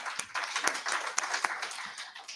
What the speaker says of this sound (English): another round of applause for her as well